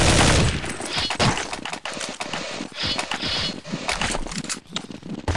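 Dense rapid gunfire from Counter-Strike 1.6 play fills the whole stretch as loud overlapping shots and bursts. There is no pause between them.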